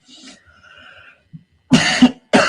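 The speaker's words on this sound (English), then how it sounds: "I hate having sinus coughs." Two or three harsh sinus coughs break out in quick succession after a few faint murmurs, loud and close against near silence.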